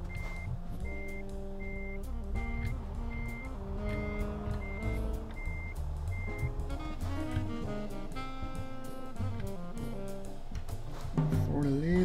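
Truck reversing alarm in Euro Truck Simulator 2, a regular series of evenly spaced high beeps over a low engine drone and in-game music tones, ending with a louder burst of engine noise.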